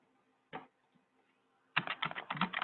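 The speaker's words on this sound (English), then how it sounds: "Let's type in the word trouble." Someone types a word on a computer keyboard: one isolated key press, a pause, then a quick burst of clattering keystrokes, close and fairly quiet.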